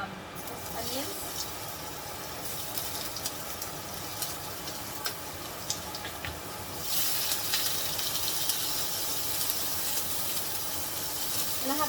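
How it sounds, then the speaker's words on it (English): Kitchen exhaust fan runs as a steady broadband hiss over a frying pan with coconut oil and onions, faint sizzling and stirring clicks mixed in, growing slightly louder partway through. "I have the fan on just because it's super spicy"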